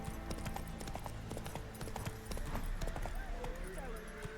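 Geralt's horse Roach gallops in The Witcher 3: Wild Hunt, a steady rapid clip-clop of hooves close by amid game ambience, with voices talking over it.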